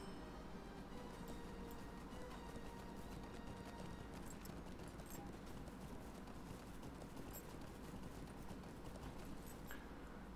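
A horse's hooves clip-clop steadily while riding in the game LOTRO, a continuous rhythmic patter under a constant background hum.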